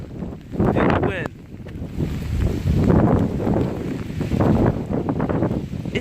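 Strong Hurricane Irma wind at about 50 mph roars and buffets the microphone in loud, rough gusts, with a person speaking and exclaiming over the noise.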